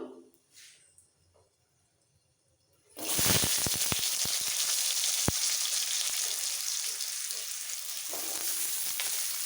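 Potatoes drop into hot oil after a panch phoron tempering for a Bengali laushak posto, and a loud sizzle erupts after a quiet start, then keeps crackling steadily, close up.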